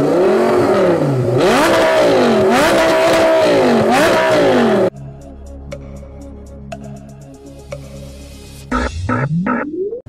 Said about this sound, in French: c'est le bruit d'un V10 Lamborghini.